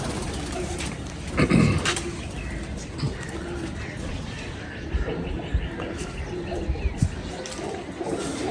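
Sialkoti pigeons coo in a loft, soft and near, with low rolling calls under a steady background hiss and someone talking throughout.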